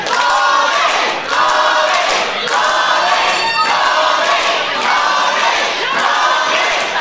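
A wrestling crowd roars in support of Bobby Bishop during an APW match under the big top, a loud, dense wall of cheering and shouting that holds steady throughout with a few brief dips.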